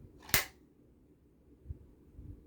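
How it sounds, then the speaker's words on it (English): A Savage bolt-action rifle chambering a round gives one sharp, loud metallic clack, followed by a couple of faint, softer mechanical clicks in otherwise quiet surroundings. "When you put a round in it, okay, you can hear it. It cams over right there."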